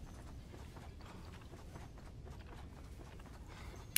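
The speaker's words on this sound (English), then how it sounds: "Once my horse catches up with me." A horse in the video game Red Dead Redemption: Undead Nightmare approaches with a soft, steady clip-clop of hooves on dirt. The hoofbeats come in a running rhythm at moderate distance over low ambient game noise, and no one speaks.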